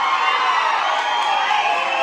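Sustained crowd noise from an audience at a children's talent event in K.R. Pete, steady and fairly loud for the whole stretch, with a broad cheering or clapping texture and children's voices mixed in.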